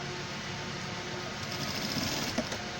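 Fairly faint, steady whir of a sewing machine joining two pant leg panels, continuous throughout with a slight rise midway and no voices.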